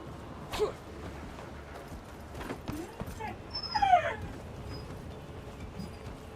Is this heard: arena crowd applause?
no